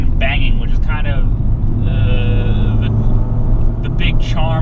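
A manual Fiat 500 Abarth with a near-straight-pipe exhaust drones steadily while driving, a low, continuous engine and exhaust rumble without much popping or banging, under someone talking.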